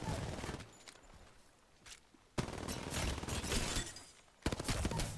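Gunfire from R99 and Hemlock weapons in Apex Legends, with loud bursts of rapid shots separated by quieter gaps, plus some background game noise.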